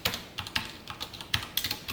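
Quick bursts of computer keyboard keystrokes while code is typed for a C programming lesson, crisp close clicks arriving in small irregular clusters with short pauses between them.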